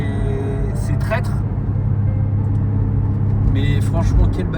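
A Porsche Turbo's engine drones and builds under load while driving, a steady low rumble heard from inside the cabin beneath someone talking.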